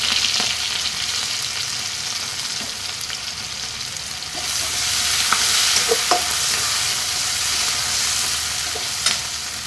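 Crushed garlic and chopped green chillies sizzle in hot oil with black cumin seeds, a steady close frying hiss that swells partway through, broken by a few light stirring clicks.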